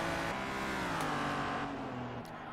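Italian 12-cylinder car engine in Forza Motorsport 3 revving hard with a steady, rising harmonic whine, loud and close throughout with no talk over it.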